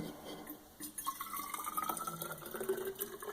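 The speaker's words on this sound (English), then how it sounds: "I'm going to pour in each one some very hot water." Very hot water being poured into insulated bottles, a soft start followed by a rising, gurgling liquid fill with a glassy ringing pitch that climbs as the vessel fills, close and moderately quiet.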